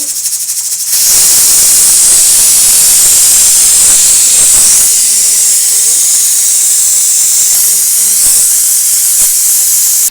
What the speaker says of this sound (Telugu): మట్టికాయలు కుక్కర్లో వేసి మూత పెట్టాను